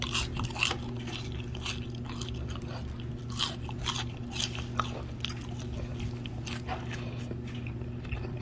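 Crisp crunching bites into a potato snack repeat irregularly over several seconds, close to the mic, with a steady low hum underneath and no clear talk.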